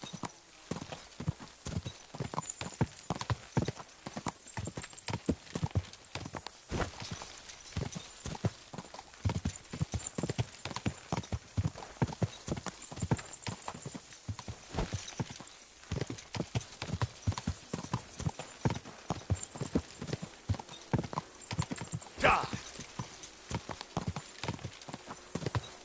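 Horse hooves gallop steadily in the medieval video game Kingdom Come: Deliverance II, a fast, loud, rhythmic clip-clop that continues for the whole stretch with no voices.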